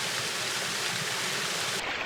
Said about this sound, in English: We are chilling out on a waterfall.